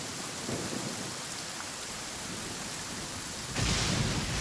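Steady rain hisses in a video game, a dense even wash of drops that swells louder near the end, with no voices.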